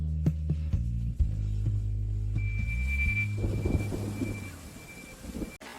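Thunder rumbles deep and sustained beneath a wash of torrential rain, a low rolling roar that swells and fades with a faint steady hiss of rainfall over it, with no talking.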